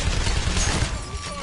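A sentry gun in PAYDAY keeps firing, producing a loud, steady stream of rapid shots with a rumbling low end that runs the whole time.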